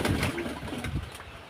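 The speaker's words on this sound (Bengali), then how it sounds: "কবুতরকে ছাড়ানো হচ্ছে।" Domestic pigeons, including Giribaz and other local breeds, coo softly at close range around their coop in a short burst of soft throaty calls.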